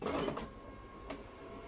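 A Primacy card printer working on a full-colour graphical test card, giving a steady mechanical whir with a louder burst at the start and a brief click-like accent partway through, close and alone.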